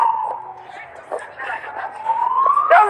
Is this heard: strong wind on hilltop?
no